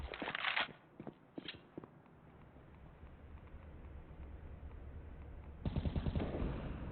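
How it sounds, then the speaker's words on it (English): Gunfire in a Counter-Strike match, bursts of rapid rifle shots at the start and again near the end, with quieter scattered shots and game noise between, fairly faint and muffled. "Bursting, spamming, spraying through, not connecting much in terms of damage."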